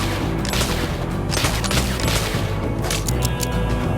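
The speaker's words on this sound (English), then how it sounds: "I was just kind of firing wildly." Rapid gunfire from the Oregon Trail video game during a bison hunt, a loud, dense run of shots with crashing impacts that keeps going without a break through the whole stretch.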